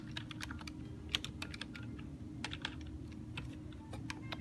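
Rapid, uneven keystrokes on a computer keyboard while entering motor names in a robotics programming editor, close and fairly quiet over a steady low hum, with no talking.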